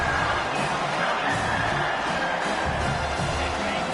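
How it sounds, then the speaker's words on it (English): A football stadium crowd roars steadily on a third-down defensive play, a dense, continuous wall of cheering and whooping with a voice talking over it. "Decibels rising as the crowd gets behind this defense on 3rd down."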